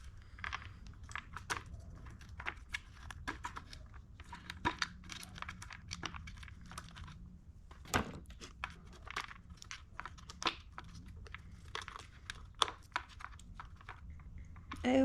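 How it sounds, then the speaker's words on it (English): A brittle, oil-soaked valve cover gasket is peeled and torn away from an Audi RS4 cover, giving close, irregular crackling and tearing bursts with sharp snaps over a low background hum, and no talking. "I'm gonna get this gasket off"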